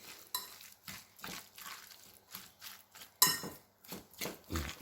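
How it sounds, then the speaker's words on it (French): A utensil stirring stuffed tomato filling with cumin and paprika in a bowl or pan: soft scraping and clinking strokes in an uneven rhythm, close but fairly quiet, with no talk. "Voilà, et on remélange vigoureusement."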